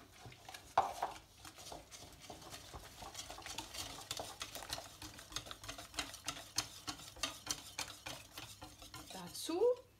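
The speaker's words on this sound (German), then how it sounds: "Milliliter Milch mit dem Messbecher messen. Und mit dem Mehl mischen." Milk is stirred into flour for Kaiserschmarrn batter, giving quiet, quick, irregular scraping and tapping of a utensil against a bowl that rises and falls in intensity, with a louder clatter near the end.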